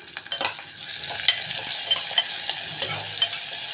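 Curry leaves crackle and sizzle in hot oil with onions for a tamarind amaranth curry, with a steady frying hiss broken by short pops and a few stirring scrapes close by.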